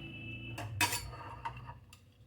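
A spoon clinks against a plate as egg curry is served beside rice, fried potol and other fried food, giving a few short metallic taps over a low background hum.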